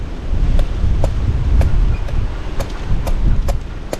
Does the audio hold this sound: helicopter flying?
no